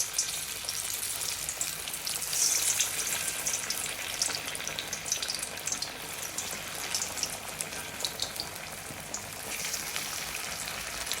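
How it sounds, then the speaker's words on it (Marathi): Colocasia leaf rolls (alu vadi) fry in hot oil with a dense, bright crackling sizzle that stays loud and even throughout, close by and without any voices. "आता आपण त्या तळणार आहे. इथे मी तेल तापवून घेतलंय."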